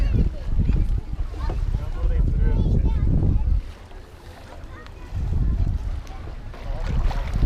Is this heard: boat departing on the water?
yes